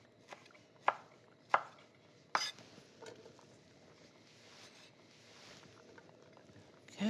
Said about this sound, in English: So let's cut it in lardoons like this.